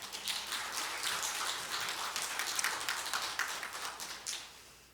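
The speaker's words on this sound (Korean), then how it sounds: "다시 한번 박수하십시다." A church congregation applauds a soprano team's worship singing with soft, dense, rain-like clapping heard from a distance that holds steady and then tapers off.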